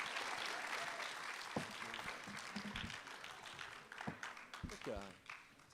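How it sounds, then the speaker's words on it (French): Applause rises from an audience at a French public talk: quiet, scattered clapping that thins out as voices begin speaking over it toward the end. "on peut l'applaudir très fort, je pense"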